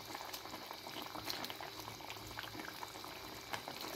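Milk gravy boiling in a handi pot for seekh kabab, a steady close bubbling and simmering hiss with small pops, no talking.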